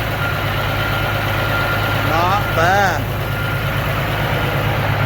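A rebuilt Caterpillar 3406C diesel truck engine idles with a loud, steady, throbbing rumble that runs throughout, and someone speaks briefly over it partway through.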